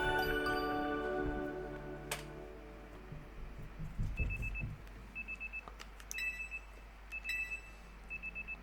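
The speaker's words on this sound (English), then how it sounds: "Hit off the alarm and step outside of our room." An alarm in the Pokemon Legends Z-A video game beeps in short, faint, evenly spaced high tones, repeating over the last few seconds after a quieter stretch with soft clicks and a low hum.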